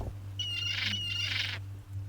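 Inside the video game The Secret of Monkey Island, a bird gives two raspy, shrill squawks in quick succession over a low steady hum from the game.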